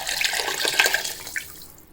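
Chicken stock pours briskly into a pot of rice for a couple of seconds, a close splashing rush that tapers off at the end.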